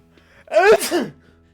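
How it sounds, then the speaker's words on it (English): One loud, close sneeze, a quick breathy intake followed by a sharp burst, alone in a quiet room. "I have to sneeze"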